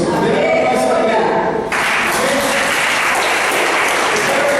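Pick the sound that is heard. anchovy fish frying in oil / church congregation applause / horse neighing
church congregation applause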